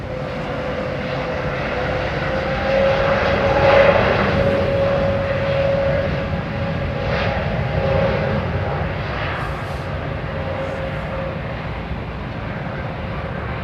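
An airliner takes off at London Heathrow Airport, its jet engines building into a loud, sustained broadband roar with a steady whine, heard continuously throughout.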